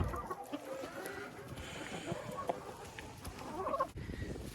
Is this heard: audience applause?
no